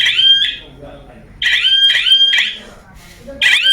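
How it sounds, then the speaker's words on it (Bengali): A Mahindra Centuro motorcycle security alarm beeping when a non-original key is switched on, loud close high-pitched electronic chirps repeating in short bursts with brief gaps. "অন্য কোনো চাবি ঢোকালে চাবি অন হলেও কিন্তু দেখা যায় যে সিকিউরিটি অ্যালার্ম বেজে উঠে লাগালে"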